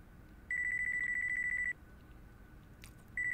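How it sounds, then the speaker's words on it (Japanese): A mobile phone rings in the Yakuza 5 video game: a steady electronic trill sounds for about a second, stops, then starts again after a short pause, crisp above a quiet background. "俺の電話だ。"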